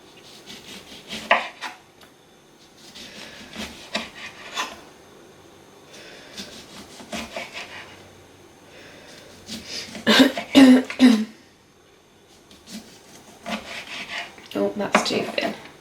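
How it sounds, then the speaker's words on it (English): A knife slices through oranges into thin rounds on a board, cutting for drying, with repeated scraping, rubbing strokes in bursts and brief pauses between, close and fairly loud. "got quite a few slices out of each orange"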